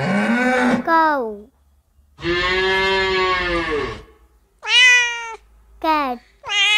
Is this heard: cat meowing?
yes